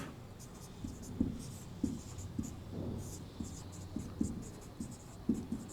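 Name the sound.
writing on a board during a lecture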